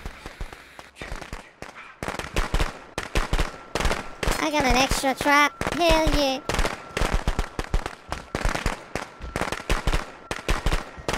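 Rapid crackling pops of firecrackers going off in the Friday the 13th video game, in dense bursts through the clip, interleaved with someone talking and game voices.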